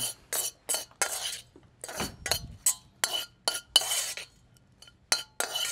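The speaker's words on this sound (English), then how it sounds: "And then we'll just get a spoon here. Gonna mix all this up." A metal spoon mixing fresh pasta with fresh basil in a dish, giving a series of repeated close scraping and clinking strokes in an irregular rhythm, with a brief low thump near the middle and no talking.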